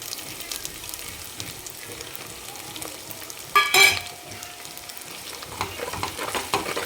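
Chili powder and turmeric frying in oil in a pan for a village-style fish curry, giving a soft steady sizzle with stirring and one brief louder scrape midway.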